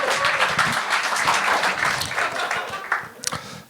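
The audience at a comedy show applauds, a crowd of clapping that holds steady and then thins out toward the end, with a few sharper individual claps near the close.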